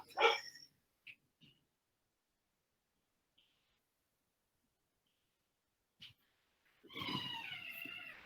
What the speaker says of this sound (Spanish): Espero que no les desconcentre mi perro que está ladrando